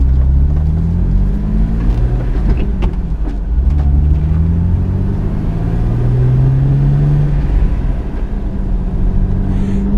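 A Jeep Wrangler with a rebuilt NSG370 six-speed transmission drives along, its engine humming loud and close with a steady low rumble and rising and falling tones as it runs through the gears, with faint clicks and rattles inside the cab.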